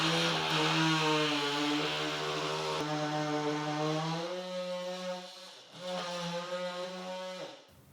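Oscillating multi-tool cutting into crown molding, a loud buzzing harmonic drone that rises and falls in pitch as the blade bites, with a short pause before a final burst of cutting.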